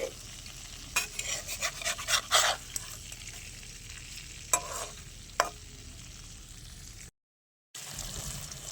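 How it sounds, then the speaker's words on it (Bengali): Hilsa fish frying lightly in a pan, a quiet steady sizzle with intermittent scraping and stirring clatter from a spatula, close and soft, briefly cutting out near the end. "মাছটাকে খুব বেশি ভাজার দরকার নেই, হালকা করে ভেজে নিলেই হবে"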